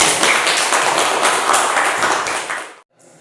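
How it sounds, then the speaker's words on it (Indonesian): Classroom applause as a group of pupils clap their hands together, a dense, steady burst of many overlapping claps that holds for nearly three seconds and then cuts off abruptly. "kita beri tepuk tangan"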